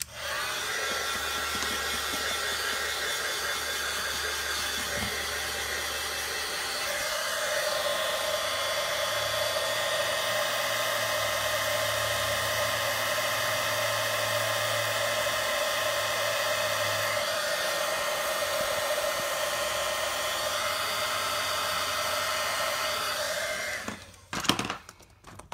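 A heat tool runs steadily for about 24 seconds, heat-setting embossing powder on a snowman papercraft card, and gives off a continuous whooshing blower hum before it switches off with a few clicks at the end.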